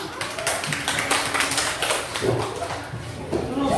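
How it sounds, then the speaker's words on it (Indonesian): Classroom applause for a student group: a steady patter of many hands clapping at once, moderately loud and continuous throughout, with some voices mixed in underneath. "Berikan aplaus kepada kelompok 3."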